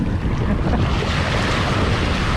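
Sea waves washing onto a sandy beach at Sattahip, Chonburi, a continuous loud roar of surf with heavy wind buffeting the microphone, no voices.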